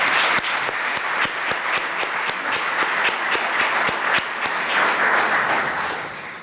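Sustained audience applause at a business forecast breakfast for presenter Chad, a dense wash of many hands clapping steadily for several seconds before tapering off at the end, with no talking over it.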